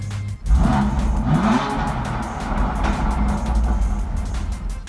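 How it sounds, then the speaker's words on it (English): A BMW M2 Competition with its active exhaust flaps open howls under load. The engine note rises and surges steadily, loud and close, with no voices. "when you put the car in any M mode, they open up and then the car starts howling like a real M car"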